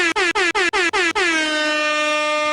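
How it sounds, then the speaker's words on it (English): An air horn blasts in five rapid stabs, then holds one long, loud, blaring note that rings on unbroken. "where's the goddamn air horn at?"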